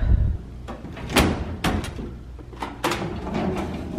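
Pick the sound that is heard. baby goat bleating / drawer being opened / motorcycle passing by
drawer being opened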